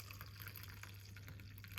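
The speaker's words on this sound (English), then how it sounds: "we're just gonna pour it out from the cup like this" Herbal tea made with rosemary, ginger, lemon and clove is poured out of a cup, giving a short, faint, close trickle of liquid with small drip-like splashes.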